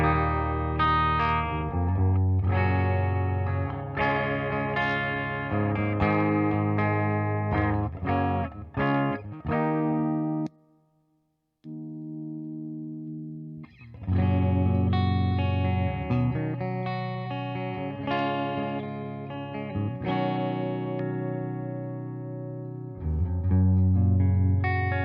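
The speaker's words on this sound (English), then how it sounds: "So this is what your clean sounds would sound like on a Les Paul." Clean Les Paul electric guitar through a Marshall DSL40CR amp, playing a long run of ringing chords and picked notes, loud and close, with one brief pause partway through.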